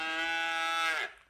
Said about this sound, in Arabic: البقرة